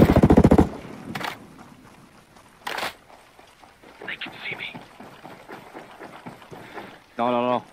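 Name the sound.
gunfire in the video game Ghost Recon Breakpoint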